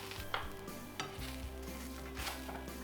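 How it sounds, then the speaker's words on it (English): Pumpkin French toast cooks in a pan until browned on each side, with a steady close sizzle. A few scrapes and clinks from a utensil sound against the pan. "we're just gonna cook these till they're nice and brown on each side"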